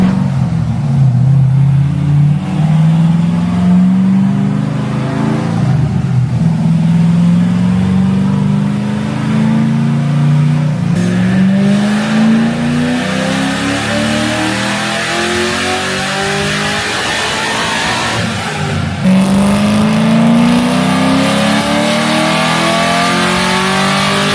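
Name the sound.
sports car engine revving on dyno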